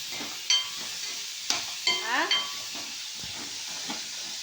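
Small tomatoes drop into hot oil for a chicken liver gravy, setting off a steady sizzle with a few sharp bursts of spitting and stirring scrapes, close and fairly loud, with no talk.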